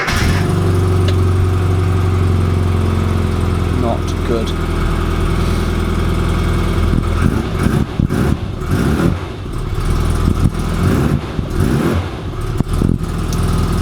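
A classic Mini 1275cc engine idles steadily with a blowing exhaust and a light tapping from the engine bay, loud and close, with someone briefly speaking over it.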